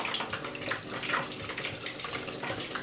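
A cup of water is poured into a cooking pot while making an Asian-inspired sauce for pork chops, giving a steady, close splashing rush for a few seconds with no talk.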